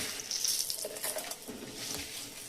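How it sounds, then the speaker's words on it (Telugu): Garlic and curry leaves roasting in a pan while being stirred: a steady, close sizzle with soft scraping and patter throughout. "తర్వాత వెల్లుల్లిపాయలు వేసుకోవాలి. తర్వాత కరివేపాకు వేసుకోవాలి. ఇవి అన్నీ మంచిగా రోస్ట్ అయ్యేలాగా కలుపుకోవాలి."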